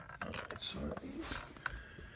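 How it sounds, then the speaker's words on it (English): Screw being removed from an HP 3330 scanner: faint, quiet mechanical clicks and ratcheting scrapes at close range, scattered irregularly over a low background. "getting this screw off"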